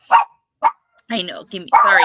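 A dog barks twice in short sharp bursts near the microphone, followed by someone talking continuously.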